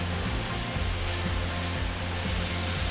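Steady broadband roar of a waterfall at Silver Falls State Park in Oregon, a constant rushing wash of falling water heard close and loud throughout, with no voices over it.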